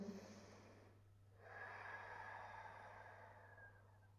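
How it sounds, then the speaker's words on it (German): Slow, steady ujjayi yoga breathing with a soft throaty hiss, like a gentle ocean rush, one long breath following a brief pause, close and quiet. "Vielleicht möchtest du die Ujjayi-Atmung hier anwenden."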